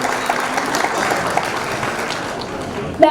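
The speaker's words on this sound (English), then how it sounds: "yes, another clap." Audience applause at a community anniversary celebration in Canada, a steady wash of clapping lasting a few seconds with a louder burst at the very end.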